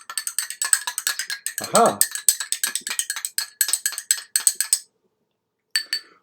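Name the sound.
stirring water in a glass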